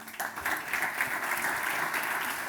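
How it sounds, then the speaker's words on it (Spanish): Audience at a conference on sustainable biodiversity and cooperativism applauds a guest taking the stage, a steady, full burst of clapping throughout. "Un aplauso para Imanol."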